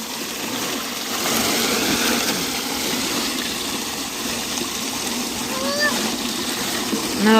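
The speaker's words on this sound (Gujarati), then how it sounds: "માંડવીના દાણા ધોવાનું ચાલુ છે" Water sloshes and splashes continuously as peanuts are stirred and rinsed in water, with faint bird chirps and distant voices in the background.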